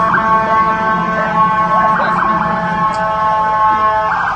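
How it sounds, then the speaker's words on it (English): A loud, wailing ambulance siren sounds nearby at a rally in Oklahoma City, its tone rising and falling over a continuous low background rumble, with no voices. "Wait for the ambulance."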